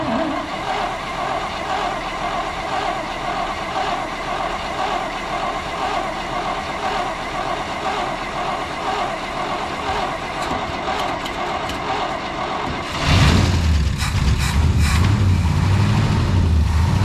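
A Binder C112 engine fed by a rebuilt vintage Holley 2-barrel carburetor idles with a steady mechanical rumble, then its running turns abruptly louder and rougher near the end, with no talking.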